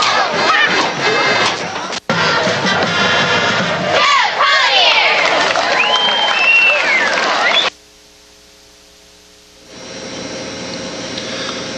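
Crowd roaring at a Friday night high school football game, Batesville versus Vilonia: a loud, sustained mass of cheering voices that cuts off abruptly, leaving a quiet hum before a softer murmur returns.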